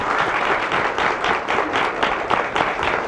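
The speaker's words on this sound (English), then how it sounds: "let's give the Lord a hand clap here in the sanctuary" Congregation clapping hands in a church sanctuary, a dense, steady burst of applause from many people throughout, with a faint voice underneath.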